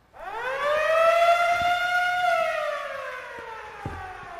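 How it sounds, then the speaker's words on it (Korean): A noon siren winds up, holds a strong wailing tone, then slowly falls in pitch, clear and somewhat distant, with a few faint knocks beneath. "이때 뚜하고 정오 사이렌이 울렸다."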